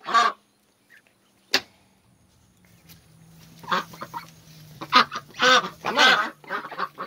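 Ducks quack in several bursts, growing busier toward the end, with a steady low hum underneath and a couple of sharp knocks early on.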